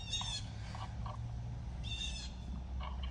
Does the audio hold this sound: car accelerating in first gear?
no